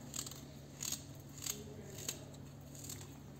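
Several crisp, evenly spaced knife cuts finely chopping ginger, about five sharp snips close by, with a low hum underneath.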